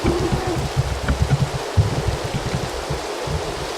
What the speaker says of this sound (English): It's always raining in my log home for some reason.